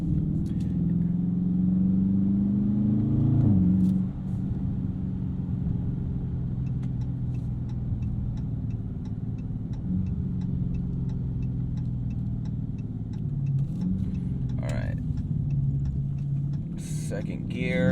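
A 2020 Dodge Charger 392 Scat Pack Widebody, its engine a steady low rumble from inside the cabin while accelerating in second gear, with faint ticking and a brief spoken remark.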